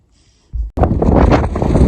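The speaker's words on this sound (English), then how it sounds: "But it's windy up here, as you can see, or hear" Strong wind gusts buffet the microphone high on a mountain section of the Pacific Crest Trail, starting as a faint hiss and then breaking into a loud, continuous rushing roar.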